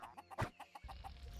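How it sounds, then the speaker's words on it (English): Several chickens cluck in short repeated bursts in the Shrek 2 video game, with one louder squawk among quieter rhythmic clucks, fairly close and faint overall. "there's chickens all over the place"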